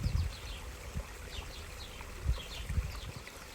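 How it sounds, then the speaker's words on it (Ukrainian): Water splashes and trickles down a small garden pond waterfall fed from a skimmer, a soft, steady, close burble with a few louder gurgles. "Вода сюди потрапляє через цей водопад."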